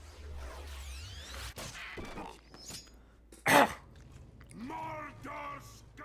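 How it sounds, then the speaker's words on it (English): One sharp, close cough bursts out midway over game sound effects and background noise, with a voice talking around it. "Cough"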